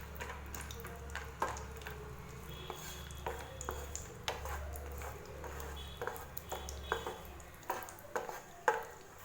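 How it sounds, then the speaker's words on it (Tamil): Cashews frying in ghee in a pan over a low flame, with a soft continuous sizzle, occasional stirring scrapes and light metallic clinks, quiet and close, plus a steady low hum underneath. "சேர்த்துட்டு லோ ஃப்ளேம்லேயே முந்திரி பருப்பை வறுத்துக்கலாம்."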